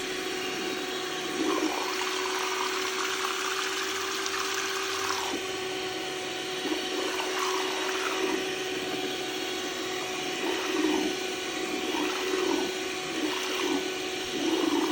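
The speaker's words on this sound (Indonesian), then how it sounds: "Kita aduk terus sampai bahan FA-nya ini benar-benar larut." A small electric hand mixer whirs steadily as it stirs an ice pack gel mixture until the powder dissolves, a continuous loud motor drone with faint liquid churning and no talk.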